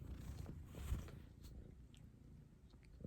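A cat purring close by in a car, a continuous low rumbling vibration with gentle rhythmic swells and one louder thump near the start, quiet overall.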